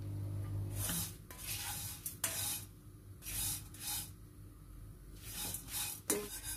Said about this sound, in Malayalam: ആദ്യം നമുക്ക് ഈ അവലൊന്ന് ചൂടാക്കി എടുക്കണം